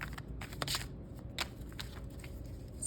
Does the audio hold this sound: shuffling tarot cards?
yes